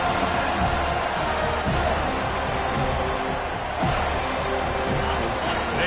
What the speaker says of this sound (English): listen to this crowd coming through